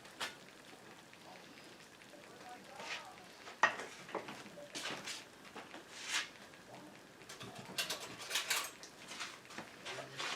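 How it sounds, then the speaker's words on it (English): Spoonfuls of baked Thanksgiving leftover casserole scooped from a baking dish, giving soft wet squelches and scattered scrapes and clinks of the utensil, moderately close and without talk. "I'm going to scoop a little bit out."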